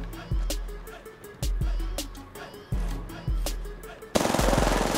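Apex Legends weapon fire: loud, close single shots spaced about a second apart, breaking into a rapid automatic burst at the end.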